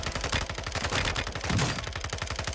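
Rapid bursts of Pocket Hurricane SMG fire in a video game crackle in dense, fast repeating shots, loud and continuous throughout with no pauses.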